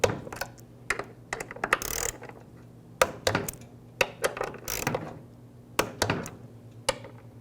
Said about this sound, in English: Now I'm going to torque these to 100 inch-pounds